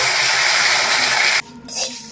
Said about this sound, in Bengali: কড়াইয়ের মধ্যে সামান্য জল দিয়ে দেব।